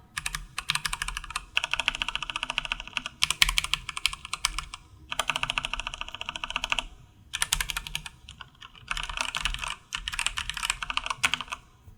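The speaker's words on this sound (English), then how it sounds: "The Kailh Pro Burgundy has a deeper tone, with a spring with increasing weight that softens the bottom of the keystroke, making it feel less harsh." Mechanical keyboard fitted with Kailh Pro Burgundy switches being typed on in steady bursts of close, crisp keystrokes, with brief pauses between runs and no voices.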